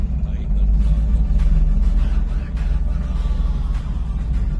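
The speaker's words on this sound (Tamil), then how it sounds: "அதே திருப்பி 4வது கியருக்கு போடுறேன்." A Tata Ace BS6 mini truck runs in fourth gear, giving a steady low engine rumble that holds throughout, with someone talking over it.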